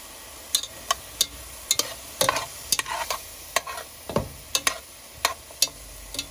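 Salted mushrooms sizzle in a hot pan as they are stirred, with a steady frying hiss broken by a run of sharp spatula scrapes and clicks spaced about every half second, close and fairly loud.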